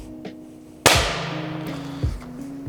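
A short bolt-action rifle fires once into drywall, a sharp close crack with a brief decaying tail, followed by a fainter thud about a second later; a low steady hum runs underneath throughout.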